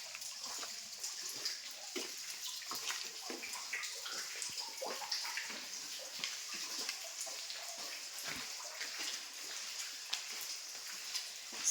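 Water drips and trickles steadily inside a cave, with dense scattered drops and a light wet hiss carrying on throughout, with no voices.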